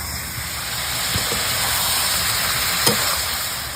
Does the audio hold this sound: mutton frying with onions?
yes